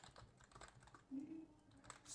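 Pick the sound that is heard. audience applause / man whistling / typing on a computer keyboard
typing on a computer keyboard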